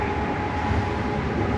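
Steady interior rumble of a Shenzhen metro train under way, with a continuous low roar and a faint whine, no voices.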